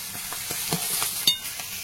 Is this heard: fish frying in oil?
yes